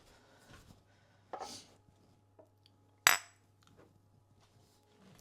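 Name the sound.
glass jars clinking while being handled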